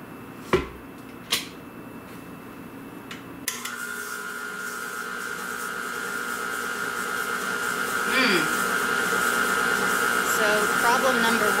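A stand mixer with a whisk attachment, mixing butter and sugar, starts after a couple of sharp knocks and then runs with a steady, loud electric whine that grows slightly.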